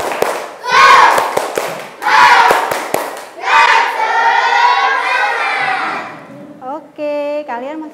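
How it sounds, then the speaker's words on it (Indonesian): Primary school pupils in a classroom do a rhythmic spirit clap, loud clusters of claps in bursts, followed by the children chanting together and a voice at the end. "Coba tepuk semangat"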